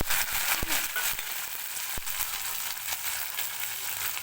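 Mustard seeds fry in hot ghee with a dense, steady sizzle, and a few sharp pops and crackles break through it.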